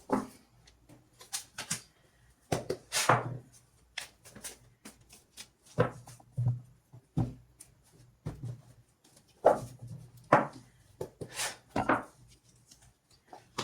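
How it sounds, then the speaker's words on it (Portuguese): Tarot cards being shuffled by hand in repeated bursts of riffling and slapping, each lasting a second or so and separated by short pauses, close up and fairly loud, with no talk over them. "vou embaralhar de novo"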